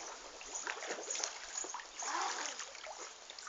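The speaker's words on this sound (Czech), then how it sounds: "Teď vám předvedu třeba například, jak přeplout tady od toho, bez držení nosu, na druhý konec a dotknout se toho lehátko." A child swimming across a pool, with repeated splashing and churning water strokes close by, continuous over several seconds.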